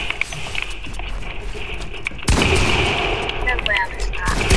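Gunfire in a Fortnite match, with a dense burst of close shots that then keeps rattling under a player speaking.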